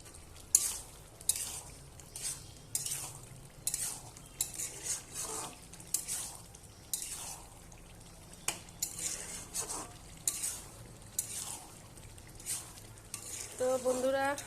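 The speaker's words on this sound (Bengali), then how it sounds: "তো আমি উপর থেকে কাঁচা লঙ্কা দিয়ে দেবো 4টা, দিয়ে একটু আমি ভালোভাবে নাড়বো" Pumpkin frying with chicken skin and four green chilies is stirred in a pan, with repeated scraping and clinking of a metal spoon against the pan over a soft continuous sizzle, close and without talk.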